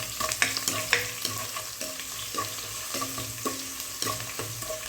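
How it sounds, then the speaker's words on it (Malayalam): Crushed ginger and garlic sautéing in oil for mutton kurma, a soft continuous sizzle broken by regular scraping stirs about every half second, close but fairly quiet, no talking. "ഇഞ്ചി വെളുത്തുള്ളി ചതച്ചതിടാം. നന്നായി ഒന്ന് ഇളക്കി കൊടുത്തിട്ട് അതൊന്ന് മൂപ്പിച്ചെടുക്കുക."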